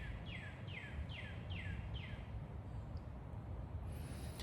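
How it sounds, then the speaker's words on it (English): Repeated descending bird chirps, about five in a steady series, ring out over a constant wind-like outdoor rumble, followed by a higher thin whistle. "listening to the birds and the wind,"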